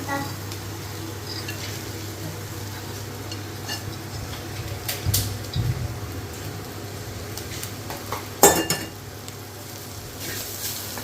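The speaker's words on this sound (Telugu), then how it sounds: "ఇదిగోండి ఈసారి పెసరపప్పు వేసేసుకుందామండి" Split yellow moong dal goes into a hot pan for a dondakaya curry, a soft sizzle under light clinks of a utensil against the pan, with a couple of louder scraping knocks.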